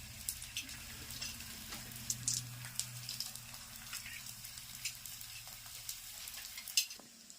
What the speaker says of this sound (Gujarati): ગુંદ તળવાનો છે. તળવાનું કામ ચાલુ.